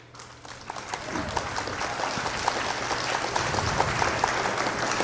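Spectators at a pool match break into sustained applause that builds and holds, close and fairly loud, with a commentator's voice underneath.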